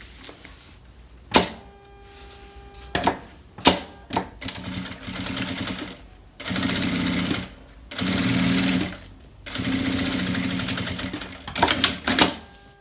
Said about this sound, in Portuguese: eu vou unir aqui as duas partes e vou passar uma costura aqui